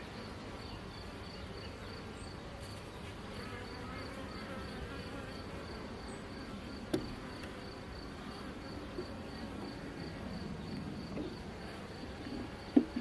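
Soft, steady buzzing of many honeybees at a hive, a continuous low drone with no voices, heard from close by.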